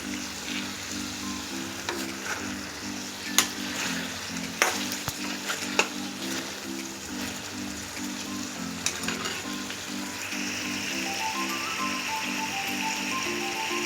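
Chicken fries in a pan with a steady, dense sizzle while a utensil stirs and scrapes it at irregular moments, close and continuous, with faint background music and no talk.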